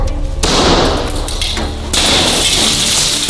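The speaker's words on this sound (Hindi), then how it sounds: "इसने तो शीशा तोड़ दिया।" A two-way mirror is smashed in a staged game challenge. Loud crashes of breaking glass come at the start and again near two seconds, with scattered rattling debris in between and no voices.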